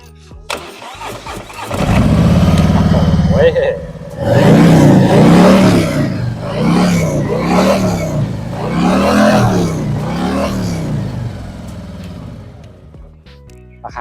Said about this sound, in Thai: เดี๋ยวพอฟังเสียงเครื่องยนต์กันหน่อยนะครับ